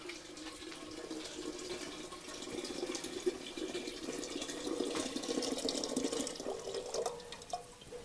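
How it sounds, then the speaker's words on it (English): Rainwater from garden rain barrels in a greenhouse fills a watering can in a soft, continuous gurgling stream, faint and close with no voices. "I'm just filling up a watering can with water from the rain barrels back here."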